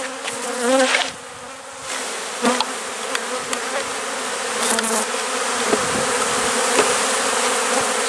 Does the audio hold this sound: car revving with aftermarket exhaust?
no